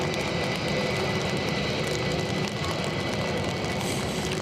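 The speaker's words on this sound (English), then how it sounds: "So British Airways on their way to London Heathrow." British Airways jet airliner departing Edinburgh Airport on a wet day, a continuous loud roaring engine rumble with broad hiss, steady throughout with no talk.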